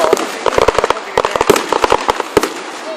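Colorful fireworks bursting in a rapid, irregular volley of sharp, loud bangs and crackles, some overlapping, with brief gaps between clusters.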